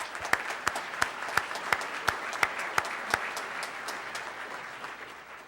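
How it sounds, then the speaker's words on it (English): At a Rotary Club of Tulsa meeting, the audience gives a round of applause. Sharp, evenly spaced claps stand out over the softer clapping of the crowd, and the sound slowly fades. "let's give them a round of applause"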